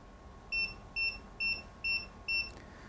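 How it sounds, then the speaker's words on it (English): A sous vide cooker finishing a pork chop cook gives five short, evenly spaced electronic beeps, clear but fairly quiet against a faint background hum. "5 beeps means it's done cooking."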